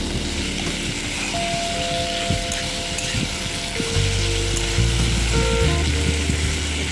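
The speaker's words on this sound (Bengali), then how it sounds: "ভালো করে সর্ষে বাটাটা দিয়ে আমি কষিয়ে নেবো" Potatoes cooking with mustard paste in a wok: a continuous sizzle with soft scraping stirs and occasional utensil knocks, the frying growing somewhat fuller toward the end.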